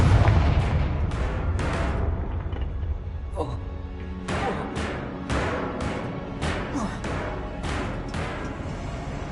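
Repeated booming blasts of the Confringo fire spell in Hogwarts Legacy, a string of sharp explosive hits at irregular intervals, loud and close, with a voice speaking briefly among them.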